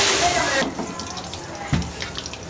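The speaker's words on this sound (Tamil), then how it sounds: "மட்டன் வேக வச்சுருந்தாங்களே அது தண்ணியோடய ஆட் பண்ணிக்கிறாங்க." Boiled mutton and its cooking water poured into a pan for a village-style Tamil meat curry, a watery splashing pour that starts with a burst and trails into softer sloshing, heard close and fairly loud.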